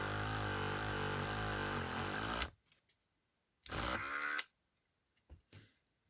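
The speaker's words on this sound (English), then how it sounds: "we'll start off by drilling out the posts" A small drill with a 1.5mm bit whines loudly for a couple of seconds drilling out rivet posts on a Corgi Whizzwheels Bertone Carabo toy car, stops, then runs again in a short burst, with light clicks between.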